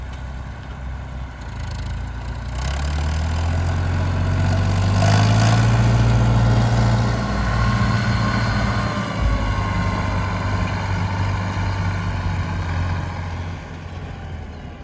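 A tractor without a cab runs steadily while sowing fertilizer on a sweet corn field, its engine droning loud and close with a low rumble that swells slightly midway and continues throughout.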